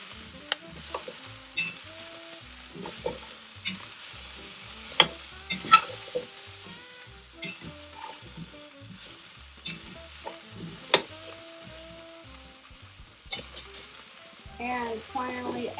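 Carrots and potatoes being stirred into a pot of Asian-style short rib soup, with the spoon scraping and clacking in repeated bursts over a low steady sizzle, close and fairly quiet, with no voices.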